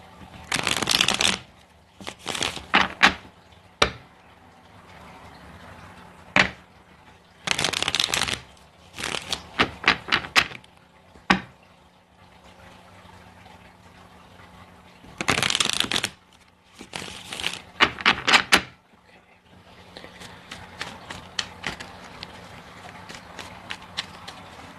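A deck of tarot cards is shuffled by hand in repeated bursts, sharp riffling flutters and slaps a second or two long separated by quiet pauses, close and crisp, with no speech.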